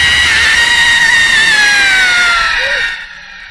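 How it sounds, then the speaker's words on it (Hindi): A girl lets out a long, piercing scream as a horror sound effect, one sustained high wail that slowly falls in pitch and then cuts off. "अचानक ही उसे एक लड़की के चिल्लाने की आवाज आई"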